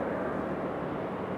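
A brand new JetBlue Airbus A220 airliner at Raleigh-Durham airport gives a steady, broadband engine roar, fairly loud and even throughout the short stretch, with no voices over it.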